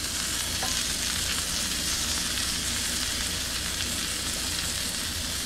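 Italian-style vegan sausages with peppers and onions sizzle steadily in a hot pan after being flipped, a continuous close frying hiss with no talking.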